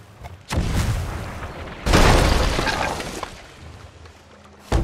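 Heavy cannon fire pounds a ship in the pirate game Sea of Thieves, with two big booming impacts and crashing debris, then a third sharp hit at the end, loud and close.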